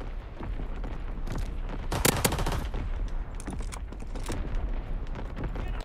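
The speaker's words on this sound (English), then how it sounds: "Firing primary battery. Target position confirmed." Artillery battery in Call of Duty WW2 firing amid heavy battlefield noise, a sharp cluster of loud blasts followed by sustained rattling gunfire and rumbling booms, dense and continuous throughout.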